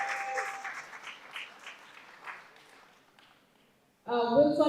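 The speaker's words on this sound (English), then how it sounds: "A round of applause to this" Audience applause at an interfaith youth forum on integral ecology, a short burst of clapping that breaks out loudly near the end after a stretch of fading, quieter sound.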